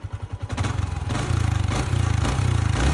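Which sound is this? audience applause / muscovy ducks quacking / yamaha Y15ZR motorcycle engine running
yamaha Y15ZR motorcycle engine running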